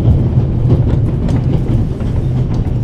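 A steam train with a coal car runs through the Swiss Alps toward the Italian border, its steady low rumble and rolling clatter filling the scene at a constant, close level with no pauses.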